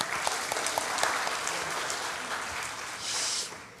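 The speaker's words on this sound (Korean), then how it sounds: "박수하겠습니다." Church congregation clapping together after a Korean sermon opening, a steady dense patter of hands filling the room at moderate level, swelling briefly near the end.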